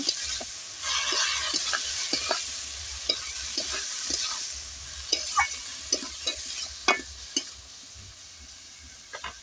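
Turmeric and salt being stirred into a pan for a fish head and greens curry. A steady frying hiss runs throughout, broken by repeated sharp clicks and scrapes of a spatula against the pan, with no voices.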